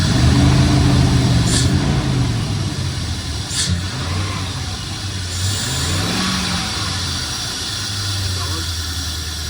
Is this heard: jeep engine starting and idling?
yes